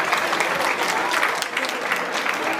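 Village audience at a youth national-instruments orchestra concert claps for the director, a continuous even wave of applause close by, without speech.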